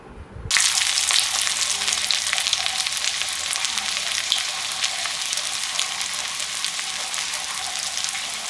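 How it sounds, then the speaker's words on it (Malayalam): Chicken-filled pastries drop into hot oil, and after a brief quiet start a loud, dense sizzle of bubbling oil bursts up and keeps going strongly and evenly at close range. "ഇനി നമുക്കിത് എണ്ണയിലിട്ട് ഫ്രൈ ചെയ്യാം"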